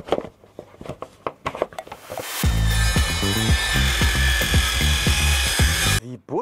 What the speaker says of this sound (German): habe diese Säge hier umgebaut auf ein Metallsägeblatt